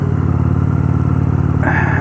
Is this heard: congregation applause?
no